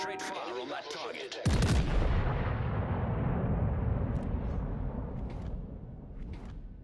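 Heavy naval gunfire from a warship in World of Warships: Legends, a loud booming salvo that breaks in suddenly and rolls on as a dense, rumbling roar that slowly fades.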